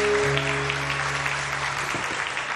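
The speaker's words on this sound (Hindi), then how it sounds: "मैं यहाँ बहुत सारी तालियां परवीन के लिए" Studio audience applauding for Parveen on a Women's Day morning show, a steady dense clatter of clapping filling the whole stretch at moderate level.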